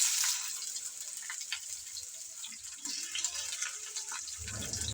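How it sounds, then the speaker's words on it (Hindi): Okra sizzles in hot oil in a frying pan, a steady, soft hiss and crackle with a rougher bubbling burst near the end. "तो हम बकाया अब सारी भिंडियाँ डाल के इसे फ्राई करते हैं"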